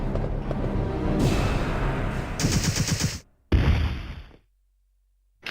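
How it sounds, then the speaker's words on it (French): Rapid gunfire from the video game Resident Evil 3 rings out in loud, dense bursts of overlapping shots, broken by a sudden silent gap, a final burst, then quiet. "Carlos lui a mis 3-4 balles, il est tombé par terre"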